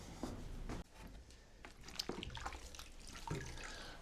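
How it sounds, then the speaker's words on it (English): Water runs from a tap into a sink, a steady splashing flow broken by short clatters and handling noises, heard close with no talk. "So I'm gonna get some water and soap."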